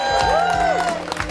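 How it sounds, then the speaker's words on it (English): Crowd at a graffiti battle awards announcement cheering and clapping for the second-place winner, loud whoops and shouts rising over scattered applause, with a sliding whistle-like tone and voices mixed in. "For second place, please give a warm applause for Jher."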